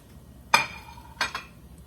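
Sliced garlic, three to four cloves, dropped into a skillet after bacon, heard as two quick metallic clinks and a brief light sizzle in a quiet kitchen.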